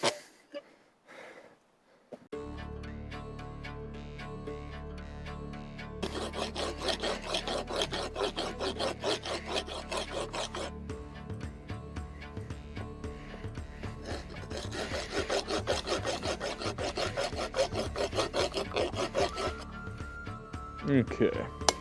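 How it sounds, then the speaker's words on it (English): A hand file rasps rhythmically along a forged sgian dubh knife blade to bevel it toward an edge, with close, repeated scraping strokes that run continuously for about twenty seconds after a short quiet start. "So I'm beveling the blade here, just bringing it down basically to an edge"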